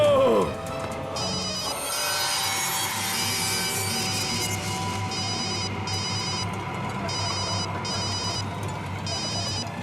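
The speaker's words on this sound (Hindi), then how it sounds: "प्लीज फोन उठाओ।" A telephone rings in repeated electronic bursts with short gaps, loud and close, over a dense layer of dramatic background noise in a horror show scene.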